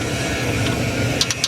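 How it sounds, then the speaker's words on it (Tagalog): An idling Isuzu 4HL1 diesel engine in need of a tune-up gives a steady loud rumble, with a light, rapid valve clatter ticking on top of it, close by. "Galagatikan yung balbula."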